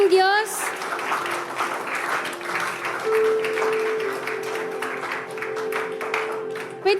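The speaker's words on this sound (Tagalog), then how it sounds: "Isang malakas na palakpak na may pagpupuri sa ating Panginoong Diyos." A church congregation claps together in a sustained burst of applause lasting several seconds, dense and fairly loud, with a steady held musical tone underneath and voices mixing in.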